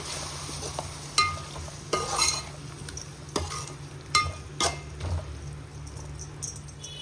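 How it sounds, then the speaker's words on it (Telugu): Yogurt being stirred into a mushroom biryani mixture in a pan, with a soft sizzle under a series of spaced spoon scrapes and clacks, close and moderate in level. "పెరుగు కూడా బాగా కలిసేలాగా కలుపుకోవాలి"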